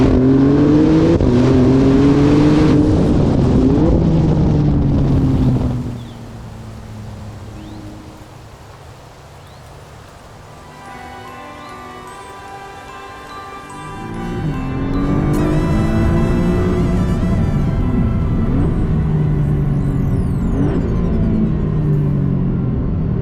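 A Maserati MC20 with a 630-horsepower engine revs hard toward 7000 rpm, its loud rising roar sweeping up and falling back, dipping into a quieter idle midway before climbing again in strong revving bursts, no talking.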